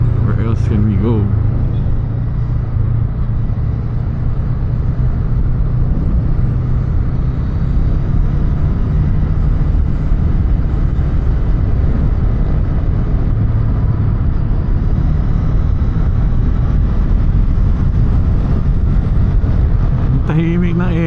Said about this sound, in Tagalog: Tahimik ng engine, grabe.